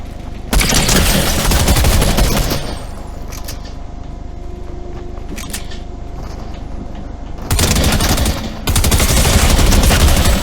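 Heavy sniper rifle gunfire in Fortnite Chapter 3 Season 3, loud sustained bursts of shots with a quieter stretch of mechanical handling sounds between them.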